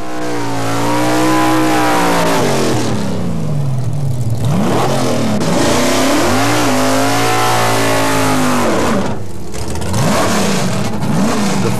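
A muscle car makes a full drag strip run at the 1992 NMCA World Finals Muscle Challenge eliminations, its engine roaring loud and close with rising and falling revs and gear changes, heard alone.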